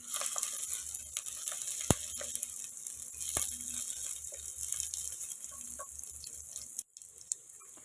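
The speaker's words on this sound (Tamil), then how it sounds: "கருவேப்பிலை நல்லா பொரிஞ்சதும் இருபத்தஞ்சி பீஸ் சின்ன வெங்காயம் ஒன்றும் பாதியுமாக கட் பண்ணி சேர்த்துருக்கேன்" Small onions and curry leaves frying in oil, a faint continuous crackle and hiss with a couple of sharp clicks, heard alone and fairly quiet.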